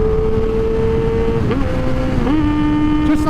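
A motorcycle engine idles and hums close by, then drops through downshifts, its pitch stepping down and blipping back up twice in quick succession over about three seconds.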